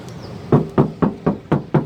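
Knocks on the metal body panel of a 2009 Nissan Grand Livina XV 1.5 automatic, six sharp, evenly spaced raps close by, with no talking.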